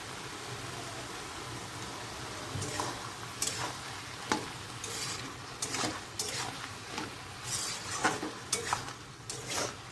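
Bhol fish fries in a pan with salt and turmeric, a constant close sizzle and hiss punctuated by irregular clinks and scrapes of a utensil against the pan, with no voices.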